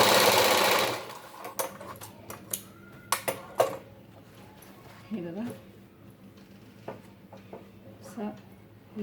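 A sewing machine stitches a paithani blouse in a brief, loud, close run, followed by scattered clicks and handling of fabric while a voice speaks.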